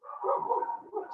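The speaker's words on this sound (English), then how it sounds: "sorry about the dogs" Dogs bark once in a short, muffled burst in the background of an online meeting, moderately loud and heard on its own.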